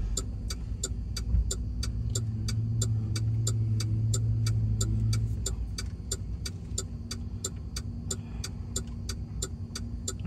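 Car driving on a Florida highway near Gainesville, heard from inside: a steady low engine and road hum under a fast, regular ticking that runs through the whole stretch.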